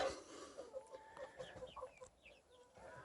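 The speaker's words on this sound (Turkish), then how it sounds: "7 tane civciv aldım." Faint, high-pitched peeping from seven small chicks, a series of soft chirps in a quiet room.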